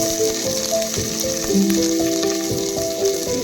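Curry leaves fry in hot oil with mustard seeds for a raw-mango rice tempering, giving a continuous close sizzle and crackle beneath soft background music.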